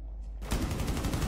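Rapid automatic gunfire in Rainbow Six Siege during an LMG rush, a close, loud burst of evenly spaced shots starting after a brief quiet moment and continuing steadily.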